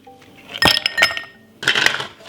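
Ice cubes drop into a glass of freshly strained galia melon and carrot juice, making two bursts of bright clinks and rattles separated by a short pause, close and fairly loud.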